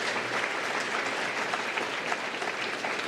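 Audience applause at a 2013 tribute event, a dense, steady wash of clapping that holds evenly for a few seconds with no voices on top.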